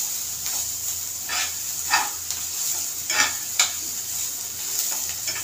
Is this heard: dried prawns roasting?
yes